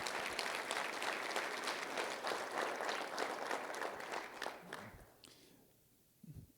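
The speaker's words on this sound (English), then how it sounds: "I just want a round of applause for the section staff" Sustained applause from a crowd at a golf association annual meeting, steady clapping for several seconds that fades out toward the end.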